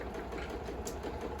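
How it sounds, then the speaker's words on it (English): A home sewing machine stitches fabric strips for heat-insulated placemats, a fast, even mechanical whirr with a steady rhythmic chatter, close and fairly quiet throughout the short burst. "So we're just going to sew all of the strips here"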